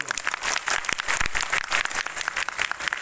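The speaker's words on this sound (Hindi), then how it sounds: "बहुत ताली हो जाए आप लोग" A crowd claps steadily, a dense patter of applause from many hands with no voices.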